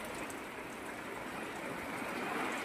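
Heavy rain pouring down outdoors, a steady, soft, broadband hiss of falling water that stays even throughout, with no voices.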